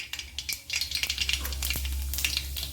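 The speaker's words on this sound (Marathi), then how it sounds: "तर चला आता आपण जिरे आणि मोहरी आपले तडतडून झालेले आहे." Mustard seeds and cumin crackling in hot oil in a pan, a quick rapid popping and sizzling close by with a steady frying hiss beneath, no talk.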